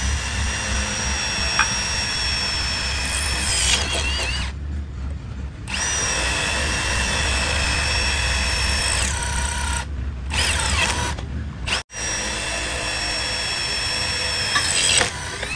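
A Milwaukee 2953-20 cordless impact driver in smart mode drives screws into iron, a loud continuous whirring drone, close up, with a few brief stops and restarts and no speech.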